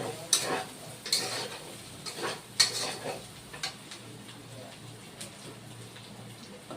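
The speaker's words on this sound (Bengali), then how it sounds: "তিন চার মিনিটের মতো আর কি মশলাটা কষিয়ে নেব" Spice paste for a raw green banana curry being sautéed and stirred in a pan, with soft sizzling and a few scraping clicks of the spoon, fairly quiet and close.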